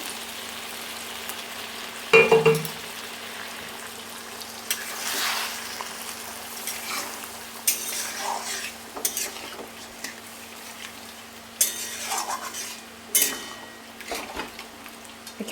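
New potatoes sizzle in oil in a pan for a home-style rohu fish curry. A spoon scrapes and stirs against the pan in irregular bursts, clattering sharply now and then over a soft, steady frying hiss.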